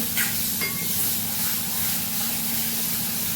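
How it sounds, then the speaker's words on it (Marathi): Husked moong dal stirred in a hot frying pan, a steady close sizzle and hiss with a couple of brief scrapes of the spoon near the start. "हे मुंगाचे चिलटे काढलेली डाळ आहे मिक्स करून घ्यायची"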